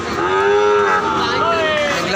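Sahiwal cattle at a market give out loud, close, drawn-out moos, two overlapping calls filling the short stretch, with no talk over them.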